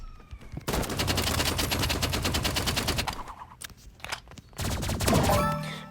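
Rapid energy-weapon gunfire in a video game, a dense continuous burst of repeated shots that briefly breaks off and resumes, loud and close with no talk over it.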